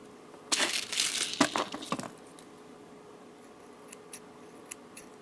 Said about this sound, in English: I'll cut the threads here